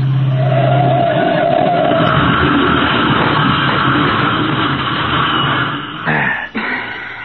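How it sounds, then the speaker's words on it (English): A car speeds into a curve and crashes in a 1947 radio detective drama: a loud sustained engine roar with tire noise for several seconds, then an abrupt jolting crash impact near the end. "now we're going to have the same kind of accident Anderson had"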